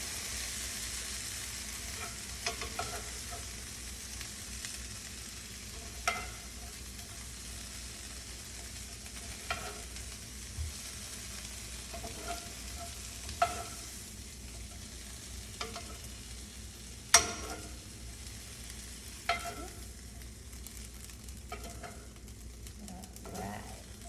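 Asparagus and red bell pepper sautéing in a pan, a soft continuous sizzle with periodic clicks and scrapes of a utensil stirring the vegetables.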